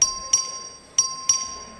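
Voting bell rung by the clerk in the Texas House of Representatives chamber, four sharp metallic strikes in two pairs with a steady ringing tone sustaining between them, clear and moderately near with no talk over it.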